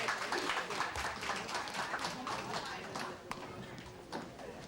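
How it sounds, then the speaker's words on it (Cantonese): An audience applauds at a birthday celebration, a dense patter of clapping mixed with voices talking throughout. "熱烈掌聲歡迎"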